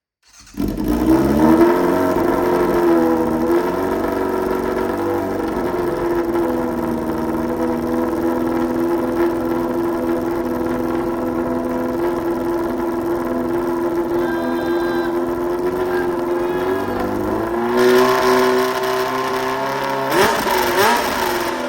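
A Yamaha 600 motorcycle engine left unstarted for years catches and idles steadily at close range, then revs up twice near the end with rising, rougher engine tone.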